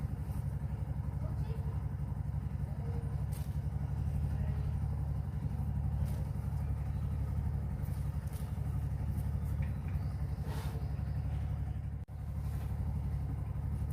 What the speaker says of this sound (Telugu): పక్కన ఆటో సౌండ్ వస్తుంది.